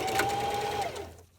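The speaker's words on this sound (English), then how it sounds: "I'm just going to go all the way around and top stitch the whole way" A sewing machine top stitching around the edge of a double layer fitted cloth face mask, needle set far left, gives a steady, close whir for about a second before slowing and fading out.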